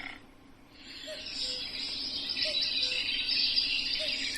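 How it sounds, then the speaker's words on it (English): A children's sound book pen plays a cuckoo's call: faint, repeated two-note calls come every second or so, set against a steady high insect-like chirring from the nature recording. "So if I tap the pen on cuckoo,"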